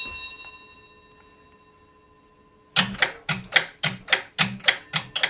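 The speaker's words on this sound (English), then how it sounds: "that signal is 16 bells, and you need the call attention bell signal first" Railway signal box bell ringing a 16-bell signal, a run of sharp, evenly spaced metallic strikes that begins after a quiet spell, loud and close with no talk.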